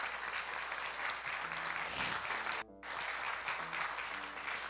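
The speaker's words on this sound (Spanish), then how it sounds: "Den una ofrenda de aplausos al Señor si usted lo cree." Church congregation clapping in praise to the Lord, a broad steady wash of applause with a brief dip midway and faint tonal sounds underneath.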